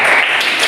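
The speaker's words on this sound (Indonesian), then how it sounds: "tepuk tangan untuk kelompok 1." Brief burst of classroom applause for a student group, dense and close, lasting under a second.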